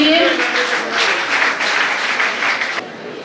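Loud applause from a school audience for a children's group song at a DAV school event, a dense rattle of many hands that begins close and strong, then cuts off and fades near the end.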